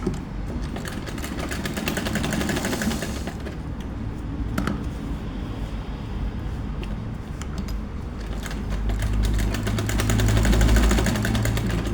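A sewing machine whirs continuously at close range, stitching a seam in a dense mechanical drone with fine rapid ticking, swelling slightly louder near the end.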